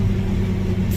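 An 800 horsepower forage harvester chops corn silage under heavy load, giving a steady, loud, deep engine rumble and drone that continues without break and without talk.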